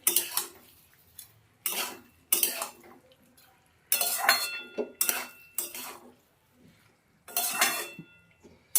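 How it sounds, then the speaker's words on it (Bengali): A utensil scrapes and clatters against a pan while winter vegetables are stirred with chilli paste for a Bengali dried loitta fish chorchori, coming in loud bursts of scraping separated by short quiet gaps. "ভালো করে নাড়িয়ে চাড়িয়ে দেবো, মিশিয়ে নেব লঙ্কা বাটাটা সবজির সঙ্গে।"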